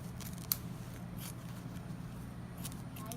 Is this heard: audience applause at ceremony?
no